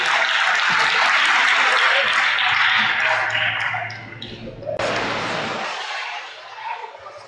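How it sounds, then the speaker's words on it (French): A crowd claps loudly and steadily at a French sports awards ceremony, then the applause thins and fades out gradually, with a host's voice briefly heard in French near the end. "On les applaudit bien fort et on remercie Adèle."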